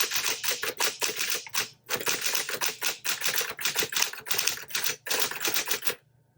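Typing on an Electra 12 typewriter, a rapid close run of crisp key strikes in uneven bursts with short pauses, ending abruptly in quiet after about six seconds.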